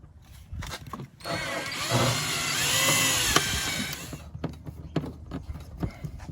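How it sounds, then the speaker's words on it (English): A power drill bores into the body of a refrigerator during an alarm installation, with a socket fitted over the bit as a depth stop; a steady whining run of about three seconds, close and loud, alone without talk. "I just use the socket to stop the drill from going in too far and puncturing into the fridge"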